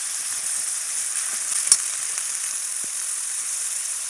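Cumin paste added to a hot frying pan of oil, a soft, steady sizzling hiss with a few faint pops, moderately quiet and without talk.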